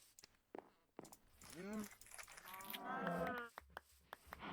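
Cows mooing in Minecraft in hardcore survival mode, two drawn-out low moos close by with soft footsteps and clicks around them and no talk.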